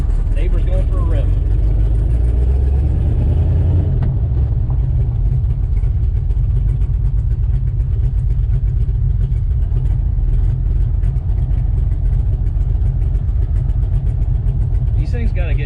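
LS-swapped hot rod engine, a junkyard LS V8, running loud and steady with a rough, lumpy idle and some revving, close by, with people talking over it.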